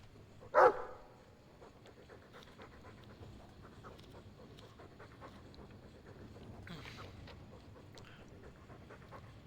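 A Mabari war dog in a video game pants softly and rhythmically at close range, with one brief louder burst near the start and quiet game ambience around it.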